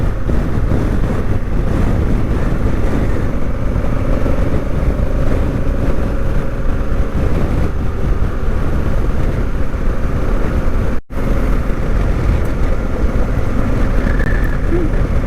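Steady engine drone and wind rush from a Honda Africa Twin motorcycle riding gravel-strewn roads in Montana on a late October day, a constant loud roar with a brief dropout near the end.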